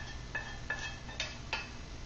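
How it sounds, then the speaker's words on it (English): Crimini mushrooms dropped into a soup pot: four light, brief knocks and taps spaced about a third of a second apart, quiet and close, with no talking. "we are just going to go ahead and add in our mushrooms"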